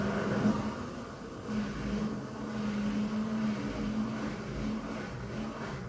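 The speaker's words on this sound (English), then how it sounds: "It will forever be hilarious to me how or why the LG or why the drain pump revs like that" Drain pump of an LG WM4000HWA TurboWash front load washer running and revving during a Bright Whites cycle, a continuous whirring drone with slight rises and falls, steady and close.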